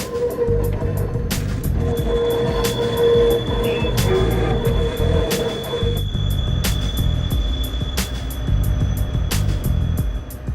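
A passenger train rumbling across the New Westminster Rail Bridge over the Fraser River, a loud steady roll with rhythmic wheel clacks over rail joints and a thin sustained squeal, heard from inside the train with no talk.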